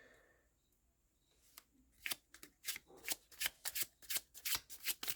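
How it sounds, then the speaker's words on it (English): A deck of tarot cards is shuffled by hand, starting after a quiet pause, then a rapid run of crisp flicks and riffling bursts repeating close up and fairly loud, with no talking. "Let's see how it shuffles real quick."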